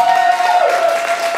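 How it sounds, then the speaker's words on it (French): Metal contest audience applauding a band, a dense, steady wash of clapping with a faint sustained tone running underneath throughout. "j'aimerais qu'on les applaudit pour ça"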